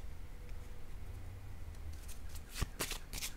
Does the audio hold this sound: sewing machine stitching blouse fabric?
no